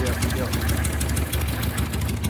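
A motorcycle engine revs in a garage, a loud, continuous rumbling drone with voices talking over it.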